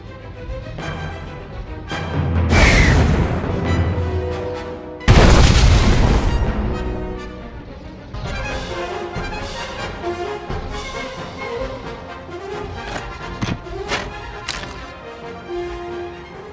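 Blaster fire and explosions in the Star Wars: The Old Republic video game during a battle on Alderaan, with loud booming blasts and dense rapid weapon fire sustained throughout and two especially heavy bursts early on.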